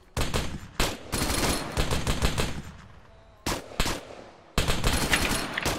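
Automatic gunfire in Arma 3, loud sustained bursts of rapid shots with short pauses between volleys, close and dominating with no voices.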